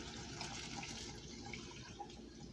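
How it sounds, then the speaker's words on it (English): Tap water running steadily into a pot of green beans, a soft continuous gushing splash heard up close. "So I'm going to fill this up with water"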